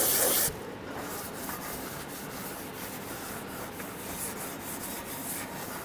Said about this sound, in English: I'm going to take some brake parts cleaner on a rag, clean off this surface here just in case there is any oil on it